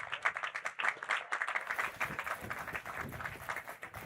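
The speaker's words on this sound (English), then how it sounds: "Let's give Senator Dow a round of applause." Applause for Senator Dow at a Crown Bay district redevelopment agreement signing in the U.S. Virgin Islands, a smallish crowd clapping in uneven bursts that swell and continue, somewhat distant and moderately quiet.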